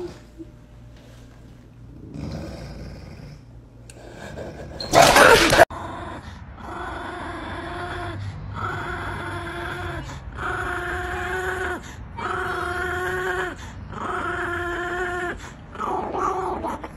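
A dog growls in a series of drawn-out, rumbling pulses, close and fairly loud, after a brief burst of noise near the start, with no talking.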